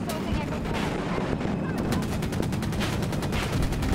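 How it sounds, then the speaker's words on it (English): Rapid gunfire crackles continuously in Battlefield 2042, loud dense bursts with a steady machine-gun rhythm in the second half, layered over a roaring battlefield background with no talk. "These guys are just randomly shooting things in the air."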